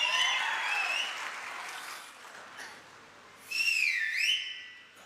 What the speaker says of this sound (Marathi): आता वाजवा. आणि ही टाळी जिल्हा परिषद पंचायत समितीसाठी.